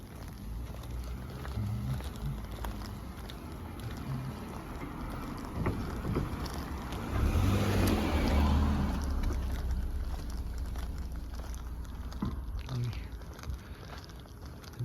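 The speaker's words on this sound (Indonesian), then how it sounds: "Itu ada taksi lewat, taksi dan mobil ya, dua kendaraan." A taxi and a car pass one after the other on a quiet Japanese street at night, a broad swelling whoosh that peaks midway and fades, over steady low rumble and wind noise on the microphone.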